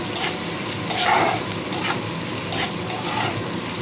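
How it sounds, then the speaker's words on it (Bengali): Chopped ginger stirs and fries in a pan for a Bengali begun bhorta, a steady sizzle broken by several scraping stirs of the utensil against the pan, close and moderately loud with no talking. "আদা কুচুনোটাকে দিয়ে দিচ্ছি আদাটাকে দিয়েও নাড়াচাড়া করে নেব"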